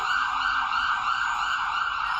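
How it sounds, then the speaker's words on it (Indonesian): An ambulance siren pulls into a hospital grounds, a loud, steady electronic wail holding a sustained pitch throughout, close by with no voices. "Tak lama ambulan itu muncul dan masuk ke dalam area rumah sakit"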